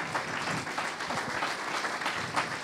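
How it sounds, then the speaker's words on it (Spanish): Audience applause after a call to honor women, steady dense clapping from a crowd that fills the room and holds at an even level throughout. "podríamos darle un fuerte aplauso a esas mujeres que hicieron mucho por nosotros"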